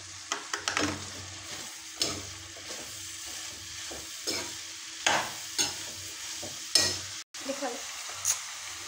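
Leafy greens hit hot oil in a pan and sizzle softly while a spatula stirs them, giving intermittent scrapes and taps against the pan, close but moderately quiet, with a brief dropout near the end.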